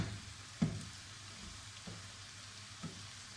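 Bitter gourd frying in a pan gives a faint, steady sizzle, broken by a few soft spoon knocks spaced about a second apart.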